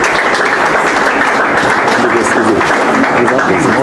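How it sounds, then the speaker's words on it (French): A crowd at a Congolese association gathering claps loudly and continuously as members step forward, a dense, unbroken wash of applause close to the mic, with faint voices mixed in. "S'ils peuvent s'avancer sous vos applaudissements aussi."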